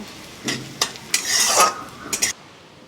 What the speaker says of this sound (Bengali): এটা আমি একটু নেড়ে দেব